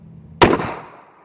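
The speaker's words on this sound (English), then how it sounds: "So we're going to give this gun a try right here. I'm going to shoot me about 8 rounds." A single sharp gunshot from an old used 9mm Makarov pistol cracks loudly nearby, then rings out in a short echoing tail outdoors.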